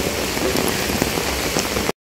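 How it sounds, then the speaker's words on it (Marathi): Heavy monsoon rain pours steadily and loudly onto surfaces close by, a dense unbroken hiss and patter with scattered louder drops, cutting off abruptly at the end. "खूप भयानक तीव्रता वाढली आहे पावसाची."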